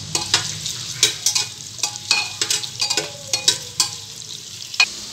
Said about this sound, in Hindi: ये है सरसों का तेल, तेल गरम हो चुका है, इसमें हम प्याज ऐड करेंगे।